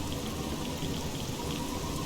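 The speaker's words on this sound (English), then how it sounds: "Getting rained on mostly" Steady rain falls in the video game Fallout 3, a constant close hiss of drops pattering on surfaces without any break, heard alone with no voices.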